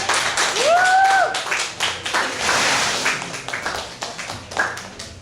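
Comedy club crowd applauding and cheering to welcome comic Jason MacLeod to the stage, steady clapping filling the room with a few whoops and whistles rising over it.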